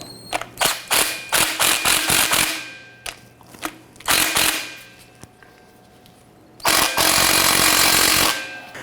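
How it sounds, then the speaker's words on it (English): An impact or power tool snugs down the upper strut nut on a 2009-2015 Honda Pilot front strut. Loud bursts of rattling, hammering blows come in repeated runs, with short pauses between them and a long final burst. "I'm going to go ahead and snug down this upper nut."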